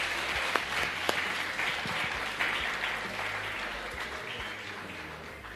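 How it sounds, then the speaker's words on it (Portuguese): A church congregation applauds, a steady, fairly soft spread of clapping with a few sharper individual claps early on and a low background hum, fading gently toward the end. "Então você pode aplaudir ao Senhor?"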